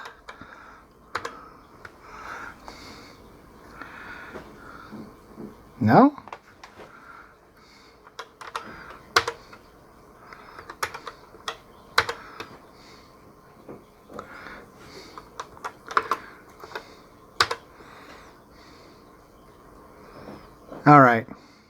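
Keys clatter on a Tandy TRS-80 8-bit computer keyboard in scattered bursts of clicks, with a person talking quietly between and over the typing.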